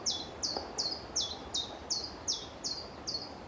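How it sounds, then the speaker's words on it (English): A chiffchaff sings a steady, repetitive series of about eight high chirping notes at an even rhythm, fairly close, over a faint background hum. "chiff-chaff singing"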